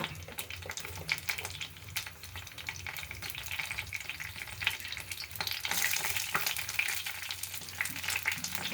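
Curry leaves and onion frying in hot oil in a pan for homemade samosa filling, a steady crackling sizzle that grows louder and brighter midway, with scattered stirring clicks and no talking.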